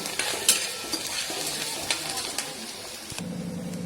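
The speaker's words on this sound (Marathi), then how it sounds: "तेल जिरं कांदा कांदा गुलाबी होईपर्यंत छान परतून घेऊया" Onion and cumin frying in oil while being stirred, with a steady close sizzle under scattered spoon scrapes and clinks against the pan.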